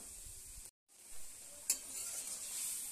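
Cauliflower florets tipped into a hot pan of spiced oil, giving a steady close sizzle of frying with a brief gap and a sharp clink of a utensil against the pan partway through.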